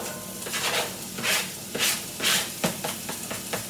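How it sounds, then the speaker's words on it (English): Onions sautéing in a pan, after the ground-beef grease has been drained, for a pot of chili: bursts of sizzling and hissing come and go in uneven waves as the pieces are stirred, heard up close. "we're going to saute some onions now that we've drained our burger grease."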